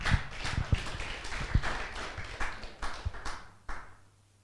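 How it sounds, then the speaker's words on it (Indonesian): A church congregation claps in a scattered, uneven way, with sharp individual claps standing out near the front. The clapping thins out and fades toward the end. "Tepuk tangan buat Tuhan"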